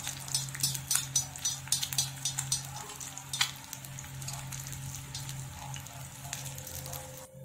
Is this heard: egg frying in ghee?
yes